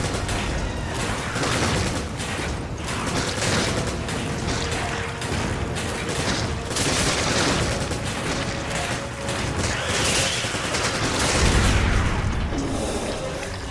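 Dense, continuous gunfire from the video game Resident Evil 5, with rapid shots and heavy booms layered into a loud, unbroken barrage throughout.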